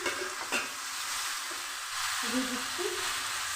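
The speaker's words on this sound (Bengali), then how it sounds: "এবার চিকেন আমি মশলার মধ্যে দিয়ে দিচ্ছি" Chicken pieces, boneless and scraped clean, go into a pan of cooked-down spice masala, giving a steady broadband sizzle with soft stirring scrapes and a few low clunks as the pieces land and are turned, close and continuous with no talk.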